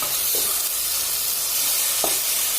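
Strained duck stock poured into sizzling masala in a pan for a duck roast, giving a steady loud hiss and frying crackle with a couple of soft stirring knocks.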